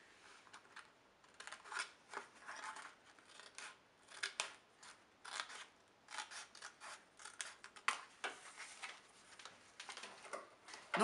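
Scissors snip through the flap of a paper bag, a quiet, close series of short crisp cuts in irregular bursts with brief pauses between them.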